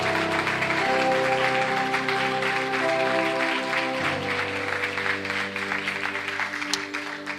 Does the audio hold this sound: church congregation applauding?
yes